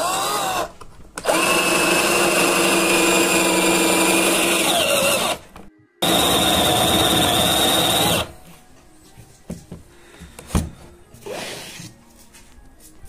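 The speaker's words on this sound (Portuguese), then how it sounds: "Eu vou fazer a furação para esse tipo de dobradiça aqui." A drill bores hinge holes into a wooden cabinet door on a homemade drilling bench, a loud steady whine for several seconds, a brief stop, another run, then quieter handling clatter.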